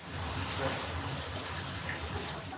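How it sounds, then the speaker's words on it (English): Excess water draining from soaked sake rice held up after washing, a soft continuous trickling and splashing that stays steady and fairly quiet throughout. "letting the excess water drain out"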